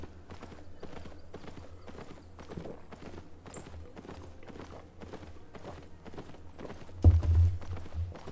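Horses clip-clop at a steady walking pace in Albion Online, with even, repeated hoof strikes, a dull low thump near the end and no talk.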